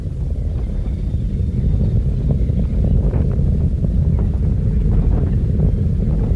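The three main engines of Space Shuttle Columbia roar during launch, a loud, steady, deep rumble with crackling texture that holds unbroken throughout.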